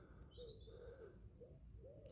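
A bird calls near a fox den with soft hooting and cooing notes, several short calls repeating over a quiet outdoor background.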